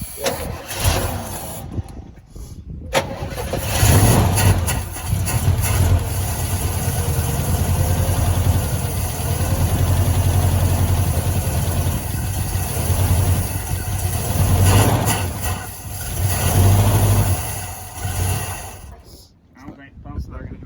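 An early-1970s four-door Chevy Nova engine, long unrun, fires on a carburetor bowl filled with gas and idles steadily with rough revving surges, loud and close, with people talking over it.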